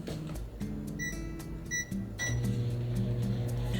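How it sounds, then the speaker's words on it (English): A microwave oven hums steadily up close while cooking a mug cake, with a few sharp beeps and clicks from the keypad over the drone before the motor note settles lower. "You take it and you stick it in the microwave."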